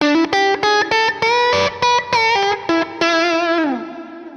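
Electric guitar lead played through a Mesa/Boogie Badlander 25 amplifier, a sustained singing tone with a quick run of picked notes ending on a held bending note, loud and alone.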